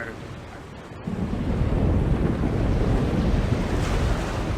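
A chaos storm at sea aboard a ship in The Longest Journey, with a steady roar of wind and crashing waves that swells louder after a second and holds as a dense, rumbling wash.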